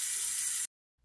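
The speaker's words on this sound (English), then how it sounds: "Then I like to spray down the toilet with my Bang from LA Totally Awesome." A single short burst of Bang from LA Totally Awesome cleaner sprays onto a toilet, a close, bright hiss lasting well under a second before it cuts off sharply into silence.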